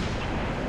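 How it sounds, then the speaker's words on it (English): Gunfire during a firefight in the video game Halo Reach, a dense, loud burst of booming shots that fills the whole moment without pause and with no voice over it. "They're shooting."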